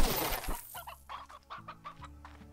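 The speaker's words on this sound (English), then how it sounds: "I know I put chickens somewhere" Game chickens in Slime Rancher cluck in a quick run of short, fairly close clucks following a brief rushing burst, set against a soft ambient game hum.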